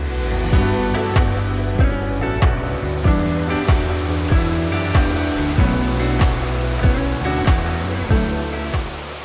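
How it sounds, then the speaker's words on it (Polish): The largest waterfall in Poland, reached by a mountain trail, gives a loud steady roar of rushing water over nine seconds, with rhythmic low thumps running through it and no voices. "to jest największy wodospad w Polsce"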